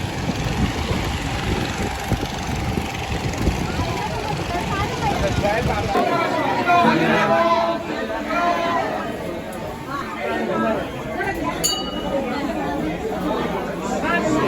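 Steady crowd chatter fills the space on a pilgrimage trip to Mahakal, Ujjain, many overlapping voices with a low engine-like hum underneath in the first part.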